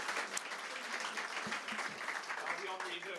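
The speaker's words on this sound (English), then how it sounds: "let's give her a round of applause" Audience applause for a guitar prize winner at an evening event, faint steady clapping from a small crowd with some voices mixed in.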